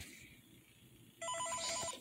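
A ringing phone in the Five Nights at Freddy's 3 video game cuts in abruptly after a quiet low hum, a bright electronic ring sounding loud and steady for almost a second.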